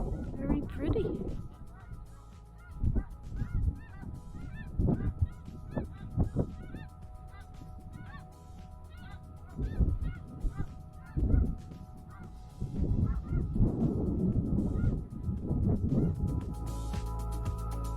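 A large flock of snow geese honks continuously, overlapping calls rising and falling in bursts, with brief talking and a low hum beneath.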